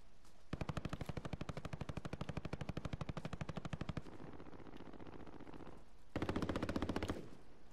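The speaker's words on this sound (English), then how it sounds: "Bloody hell, shots everywhere, mate." Video game gunfire rattles in long rapid automatic bursts, one sustained run for several seconds, a brief gap, then another loud burst, close and dominant with no talk.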